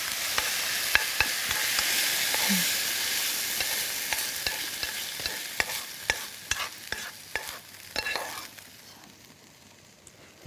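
Minced beef is stir-fried in a pan for a Korean cucumber-and-beef dish, a steady bright sizzle broken by frequent scraping clicks of the spatula, the sizzle fading toward the end.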